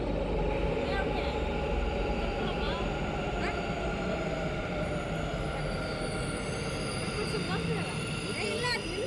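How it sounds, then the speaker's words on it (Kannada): Metro train pulling into a station in Bengaluru, a steady loud rumble of the arriving carriages with faint high wheel squeal, heard from the platform under a continuous crowd murmur. "ಫೈನಲ್ ಆಗಿ ಇವಾಗ ಮೆಟ್ರೋ ಬಂತು."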